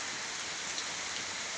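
Steady, even rain falls throughout, a soft continuous hiss of drops on surfaces with no voices or thunder.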